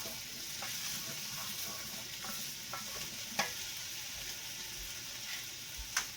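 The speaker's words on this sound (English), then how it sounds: "So we're going to fry them up really well." Chicken pieces frying in a pan over medium-high heat for Mexican chicken give a steady soft sizzle, with occasional sharp stirring scrapes and clicks standing out against the hiss.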